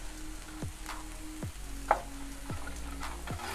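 Chicken fried rice stirred in a hot pan, a steady sizzle broken by a few scraping strokes at a regular pace and one sharp clink of the utensil against the pan.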